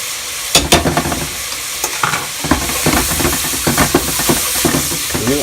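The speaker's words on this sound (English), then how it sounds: "when you arrive to this point, you have to keep stirring." A wooden spoon stirs an Italian beef stew, seasoned with nutmeg, in a hot pot. Scraping strokes fall in an uneven rhythm over a constant close sizzle and hiss, loud throughout.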